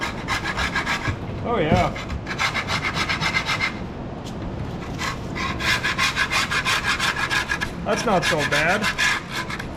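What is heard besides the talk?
scraping with a hand scraper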